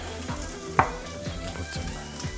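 Chicken fried rice sizzling steadily in a hot pan as soy sauce goes in, with stirring scrapes and one sharp clank among the crackle, close and continuous with no talk.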